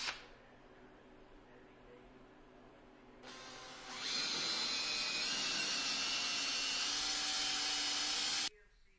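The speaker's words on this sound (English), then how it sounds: "I'm just going to drill some pilot holes here" A power drill bores pilot holes into the deck of a Lund 219 Pro V GL boat during trolling motor installation, a steady whirring drone running several seconds before cutting off abruptly, fairly close.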